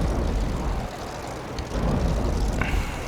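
Steady, dense engine roar of propeller fighter planes in the Air Wars 3 combat game, built with the Unity engine and HTML5, droning continuously with faint blips from gunfire; no talking over it.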